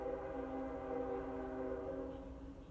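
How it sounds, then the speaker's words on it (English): A passing train sounds as a faint, distant, sustained tonal drone like a horn, holding steady for a few seconds before easing off, with no talking. "there's a train."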